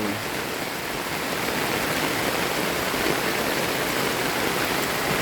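A steady, loud rush of flowing water fills the whole clip, broad and unbroken like a swollen river or stream.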